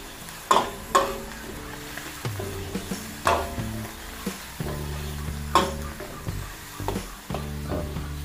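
Chicken liver and gizzard hit a pan of sautéed onion and garlic for a Filipino dish, giving a steady sizzle with repeated sharp scrapes and clanks of stirring, close and fairly loud, with no talking.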